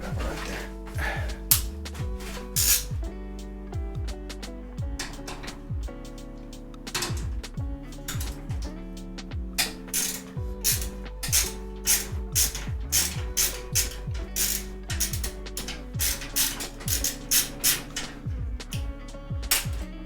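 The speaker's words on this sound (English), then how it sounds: "Where did I put my screwdriver?" Repeated ratcheting clicks from a screwdriver driving screws to mount a graphics card in two slots during a PC build, rapid bursts of close, crisp clicking that come and go throughout.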